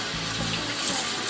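Steady rush of water poured or running for a bath, a continuous close splashing flow with no break.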